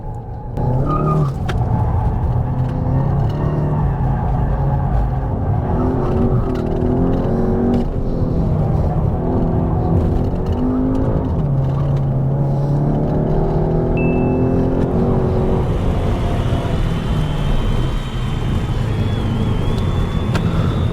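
A sports car, either a Hyundai i30N Fastback or a Skoda Octavia RS TSI, pulls hard around a race circuit, its engine loud and close as it rises and falls through gear changes, with a brief squeal of tires partway through.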